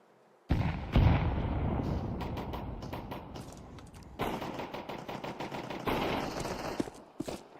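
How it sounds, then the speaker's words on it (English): Gunfire, blasts and a thrown grenade's explosion from a Valorant match. A dense barrage of sharp bursts and booms runs loud and near from about half a second in, with a second intense stretch later. "Throwing a grenade."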